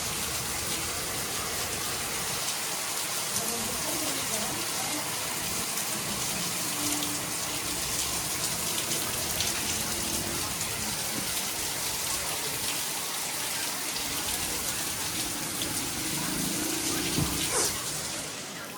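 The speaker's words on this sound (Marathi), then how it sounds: "बाहेर एवढा खतरनाक पाऊस चालू आहे" Heavy nighttime rain with storm wind pours outside in Karjat during a red alert, a dense, loud, continuous roar of falling water with no talking.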